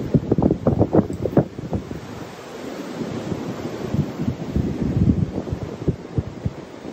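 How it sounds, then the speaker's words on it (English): Steady, blustery wind roars across the microphone on a cold Appalachian Trail day near Tesnatee Gap, with rumbling low gusts and no voices. "It's a cold, windy one."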